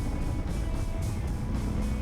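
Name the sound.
2020 Harley-Davidson Low Rider S motorcycle engine while riding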